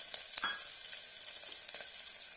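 Green chillies and sliced onion hiss and crackle as they fry in hot oil for masala pulao, with a steady close sizzle and a few sharper spits near the start, no talking.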